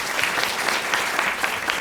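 An audience at a cosplay and film costume design panel breaks into dense, steady applause. The clapping is loud and continuous across the whole short stretch.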